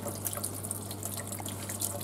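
Giant grubs rinsed under a running tap, a steady close splashing stream of water with a faint low hum beneath it and no talking.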